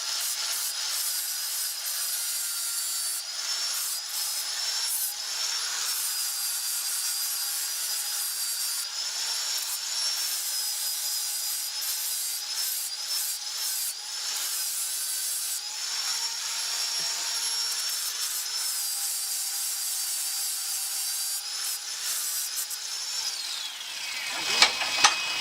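A flap disc on an angle grinder cuts a bevel into a steel anvil project piece, a steady, loud, high whining grind that runs almost unbroken for the whole stretch before winding down at the end.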